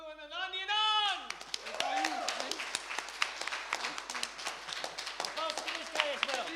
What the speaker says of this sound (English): One more applause for Emalu and AnonTheAnon's!